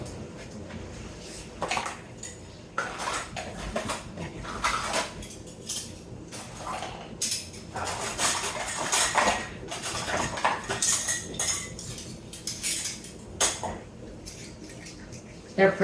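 Metal canning jar rings are gathered for canning chili, clinking and clattering together in bursts of sharp metallic knocks and jingles, loud and close, with short pauses between handfuls.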